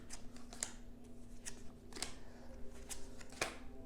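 A deck of tarot cards is cut and handled on a table, giving soft, scattered flicks and light papery taps at an irregular pace, faint and close, with no talking.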